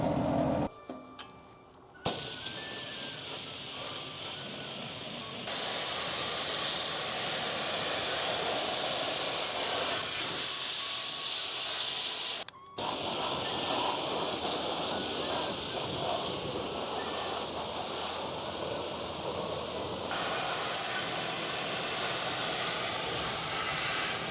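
A DJI T50 agricultural drone being washed with a water spray: a loud, steady broadband hiss of spraying water that runs almost continuously, broken by a short pause at the start and a brief gap midway.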